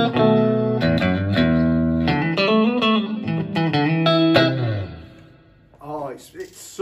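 Clean, warm electric guitar through a used Peavey Special 112 Solo Series amp with the reverb set low plays a quick run of picked notes and bends, then rings out and fades before a few softer notes.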